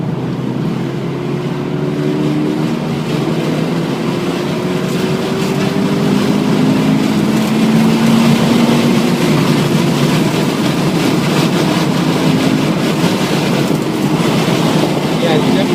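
Subaru BRZ engine pulling hard at full throttle on the Infineon race track, a loud, steady in-cabin drone with rising engine tones held throughout, with no pauses.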